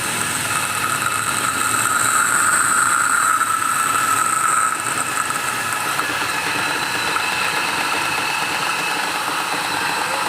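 A restored pressure washer's small engine runs steadily, a continuous mechanical drone with a faint high whine that shifts slightly midway.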